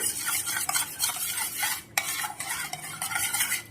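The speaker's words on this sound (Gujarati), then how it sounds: "હવે આ બધી વસ્તુ આપણે સારી રીતે મિક્સ કરી દઈશું।" Fafda dough ingredients being worked together by hand or spoon, giving a close, steady scraping and stirring sound with soft dull knocks and no voices.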